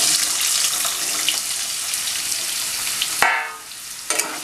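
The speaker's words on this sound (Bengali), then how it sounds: "এই আলুগুলো ডুমু ডুমু করে কেটে নিয়েছি, আলুগুলো আমি ভেজে নিচ্ছি ফোড়নের সাথে" Diced potatoes fry in hot oil with bay leaf, dried red chili and cumin, a loud, dense sizzle that runs steadily before abruptly dropping, followed by a few brief stirring clatters.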